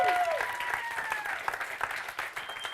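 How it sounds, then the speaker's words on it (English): Audience applause at a talk on affective communication, moderately loud clapping with a faint tone and some voices underneath, gradually thinning toward the end. "So can we just give her a round of applause one more time there"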